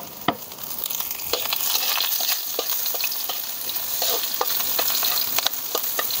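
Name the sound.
garlic and onion sautéing in hot oil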